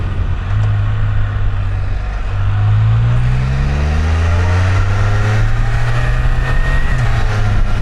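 Motor vehicle passing along a road in the Texas Hill Country, a loud close engine drone whose pitch slides up and down as it goes by, with no voices.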